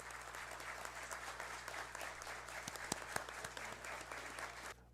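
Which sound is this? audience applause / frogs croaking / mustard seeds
audience applause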